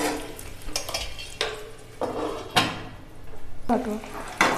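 Eggs frying in a pan for egg biryani, a steady sizzle broken by several sharp spatula scrapes and knocks at a regular pace, close and fairly loud.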